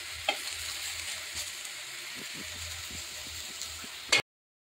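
Potatoes frying in a pan, a steady low sizzle with a few stirring clinks, fairly faint and close, with no talk, ending abruptly in silence.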